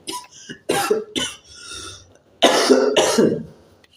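A person coughs several times in quick, harsh bursts, close up, with short pauses between the fits.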